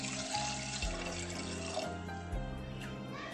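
Water pours steadily into a pressure cooker holding mutton bones for soup, a continuous close splashing fill with no talk.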